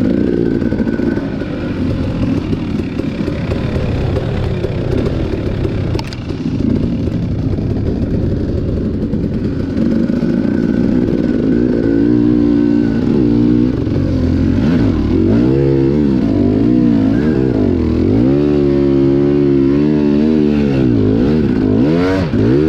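A dirt bike engine on a Horse Shoe Valley trail ride sounds loud and close, idling and chugging at first, then rising and falling in repeated throttle blips and revs.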